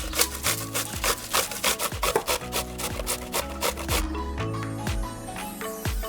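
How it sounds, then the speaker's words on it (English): A cucumber being grated for tzatziki gives steady, rhythmic rasping strokes, close and fairly loud, with no talking over them. "Let me grate this up and then we'll get on with the next ingredients."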